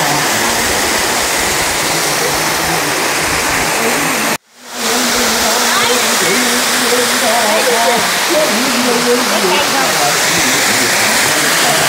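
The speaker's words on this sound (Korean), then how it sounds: "두 번째 폭포. 와, 크네." A large waterfall at a mountain hermitage thunders in a constant loud roar, close and unbroken apart from a brief cut, with a voice speaking faintly beneath the rush.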